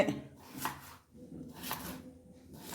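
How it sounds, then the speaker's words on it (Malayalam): Knife chopping banana stem on a board in a kitchen, a few quiet, separate cuts with gaps between them, heard up close. "ഇത് പെട്ടെന്ന് നമുക്ക് അരിഞ്ഞ് എടുക്കട്ടെ"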